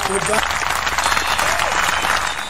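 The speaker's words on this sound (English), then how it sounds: "Children, a round of applause to Kumari Moksha." A children's audience applauds at a young talents show, a steady dense wash of clapping that carries on for the whole moment, with a voice briefly heard over the start.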